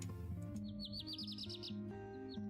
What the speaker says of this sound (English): You click the birdies and they make a noise.